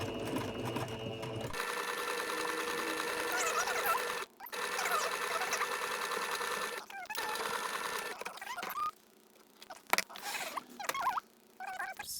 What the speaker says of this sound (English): where you're about to start sewing now